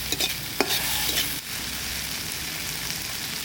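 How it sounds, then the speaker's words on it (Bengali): Snails sizzle loudly in an oily pan as a utensil stirs them, a busy close crackle with a few scraping strokes early on, then a steady frying hiss. "এবার গুগুলি ভাজা হয়ে গেছে"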